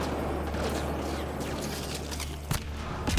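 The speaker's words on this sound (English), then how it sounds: "Fire missiles!" Rapid missile launches and explosions crackle in a continuous barrage during Mass Effect: Andromeda combat, with a heavy boom punching through near the end over a low rumbling bed.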